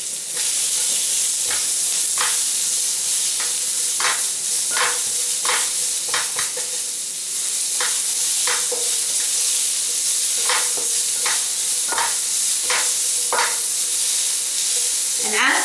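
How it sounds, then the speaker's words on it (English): Red onions fry with cumin seeds in hot oil under a steady, bright sizzle, while regular stirring strokes scrape the pan at roughly one-second intervals throughout, close and loud with no talking. "While they are splattering, introduce the red onions."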